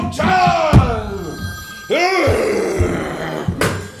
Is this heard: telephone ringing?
yes